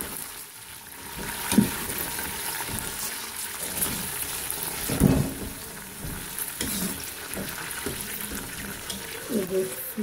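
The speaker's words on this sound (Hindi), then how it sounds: "अभी इसके साथ हम थोड़ा सा पानी डाल देते हैं।" Water poured into a hot pot over frozen beef for nihari, sizzling and hissing with bubbling and stirring clatter, steady and close, under a voice speaking.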